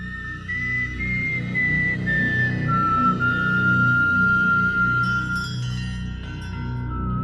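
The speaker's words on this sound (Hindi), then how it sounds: "एक सीटी की आवाज गूंज गई।" An eerie sound-effect whistle in a horror story about a circus clown, a thin sustained tone that wavers and slides in pitch over a low droning ambient bed, with faint chimes near the end.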